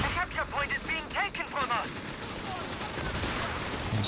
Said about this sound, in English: You see the machine guns firing